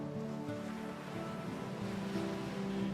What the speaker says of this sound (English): Rough Atlantic Ocean waves off the remote islands of St. Kilda, west of the Outer Hebrides, Scotland